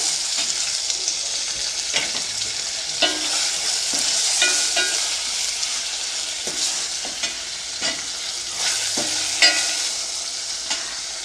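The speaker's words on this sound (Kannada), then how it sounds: "ಇವಾಗ ಟೊಮೊಟೊ ಹಾಕ್ಕೊಂಡಿದ್ದೀನಿ" Sliced tomatoes cook in a pan for radish sambar, giving a steady close sizzle with repeated scraping stirs throughout and no talking.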